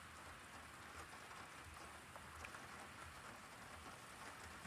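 Rain during a thunderstorm in Sioux Falls, South Dakota falls as a soft, even hiss of drops on surfaces, faint and continuous with no voices or thunder claps.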